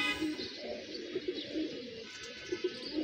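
Pigeons cooing steadily in a loft, repeated low throaty coos spread across the stretch, moderately near, with a faint constant background hiss and no voices.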